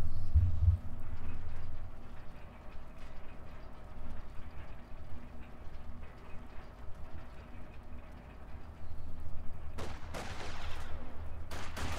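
Anti-tank gun and infantry fire crackle through a real-time strategy battle featuring a Panzer IV, scattered shots and thuds at moderate distance with a louder burst of firing near the end.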